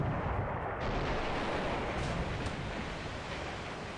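Torpedo hits explode on ships in the naval war game War in the Pacific, a dense continuous roar of rumbling blasts that stays loud from start to finish.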